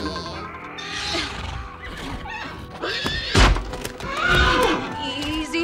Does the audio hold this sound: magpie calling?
no